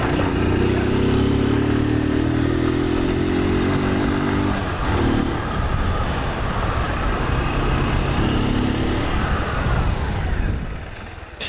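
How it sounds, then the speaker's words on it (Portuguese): A motorcycle on a road near Mairiporã, São Paulo, accelerates hard with a loud, close engine. Its pitch climbs in stages and breaks at gear changes, with wind roar and road noise throughout. "E vamos que vamos mandando marcha para a motoca."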